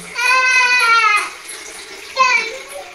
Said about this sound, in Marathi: ये मम्मी नळ बंद करावं